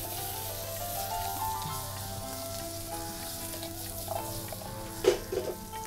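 Boiled vegetables frying in butter in a pan over medium heat, a steady soft sizzle with faint stirring clatter near the end, fairly quiet and continuous.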